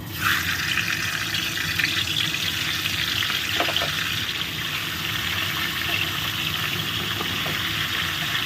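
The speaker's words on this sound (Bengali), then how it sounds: "মাথা কিন্তু খুব সুন্দর করে ভাজতে হবে, বেশ লাল লাল করে।" Fish heads frying in hot oil give a loud, steady, dense sizzle with crackling that stays even throughout, with no talking.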